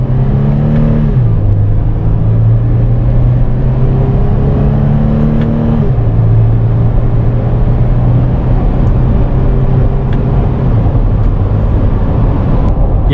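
A 2021 Toyota 4Runner TRD Off-Road accelerates hard, its engine droning loud and close from inside the cabin and rising through several gear changes with drops in pitch, continuous and without talk.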